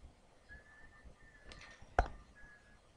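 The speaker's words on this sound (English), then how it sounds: "No need to be whistling." Someone whistles in a high-school physics classroom, a faint, thin sustained tone in short phrases, with a sharp click partway through and quiet room noise underneath.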